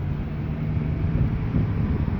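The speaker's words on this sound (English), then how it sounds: "Sorry about the noisy traffic in the background." Steady background traffic noise at a park, a continuous low rumble with a faint wind-like hiss, moderately loud and unbroken, with no speech over it.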